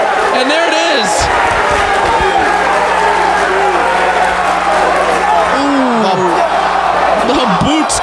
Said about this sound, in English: Hold on, listen to that crowd.